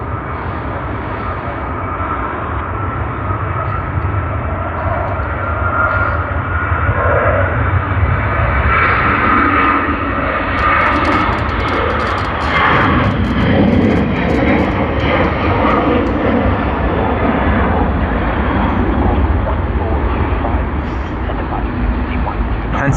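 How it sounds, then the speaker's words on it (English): Jet engines of a Singapore Airlines Airbus A380 at Sydney Airport, a loud sustained roar that swells with a hissing rise midway, while a voice talks over it at times. "Singapore Airlines A380, Singapore Airlines A380, Singapore Airlines A380"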